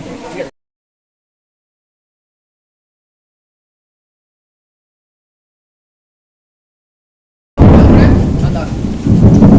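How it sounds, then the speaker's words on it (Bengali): A loud, dense roar of heavy rain bursts in after a long stretch of silence and continues steadily to the end. "বৃষ্টি পড়ছে।"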